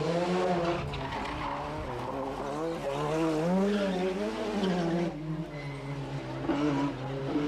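Rear-wheel drive Ford Sierra rally car racing at the 1994 Rally of the Lakes, its engine loud and close with a continuous rising and falling drone, revs sweeping up and down with a brief dip near the end.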